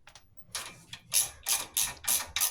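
A ratchet clicks in short, quick bursts while bolts are snugged down to hold a C3 Corvette brake rotor in place, close and fairly quiet, with several rhythmic clusters of clicking and brief pauses between them.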